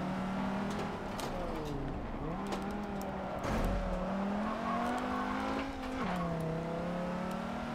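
A 2005-era turbocharged Volvo in a racing video game revs and accelerates, engine pitch climbing and dropping through repeated gear changes with a brief tire squeal, steady and loud with no voices.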